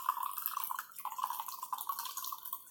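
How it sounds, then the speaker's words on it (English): Absinthe trickles over sugar cubes into a glass, with a plate set underneath, making a steady run of light, close dripping and splashing that lasts throughout with no talking. "pour this 2 ounce of a shot of absinthe over the sugar cubes into the glass"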